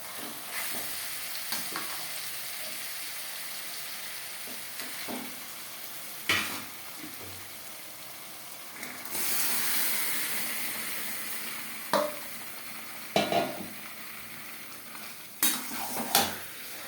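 Marinated chicken frying on high flame with onion and tomato for alu chicken curry, a constant low sizzle punctuated by repeated clanks and scrapes of a spoon stirring against the pot, with no voices.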